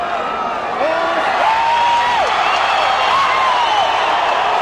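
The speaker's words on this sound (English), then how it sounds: "many of those who are cheering now" A boxing arena crowd roars and cheers after a knockout, a dense sustained wall of voices with whistles and whoops rising above it.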